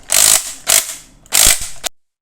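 Three loud bursts of rapid ratcheting clatter from a Makita cordless impact driver with a socket fitted, close up, each lasting under half a second with short pauses between.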